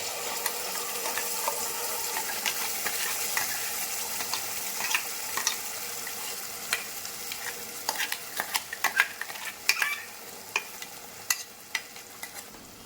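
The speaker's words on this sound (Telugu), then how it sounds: "బాగా నూనెలో వేయించుకోవాలి" Ground masala paste frying in oil for a coconut milk fish curry, a continuous sizzle with louder spatters and the scrape of stirring growing more frequent in the second half.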